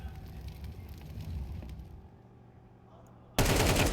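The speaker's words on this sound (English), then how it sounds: "He gets that clean headshot to the back of the head of Tessess." Gunfire in a first-person shooter, with steady rattling automatic fire under game ambience for about two seconds, a quieter lull, then a sudden loud burst of shots near the end.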